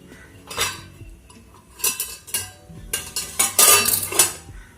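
Mustard seeds are tipped into hot oil in a cooking pan, giving several sharp, bright bursts of clattering and crackling spread across a few seconds, with quieter gaps between them and no talking.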